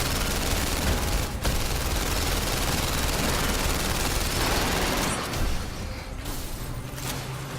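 Sustained rapid gunfire in the VR game London Heist, a dense roar of automatic shots with mechanical clatter and vehicle noise, loud and continuous, thinning slightly toward the end.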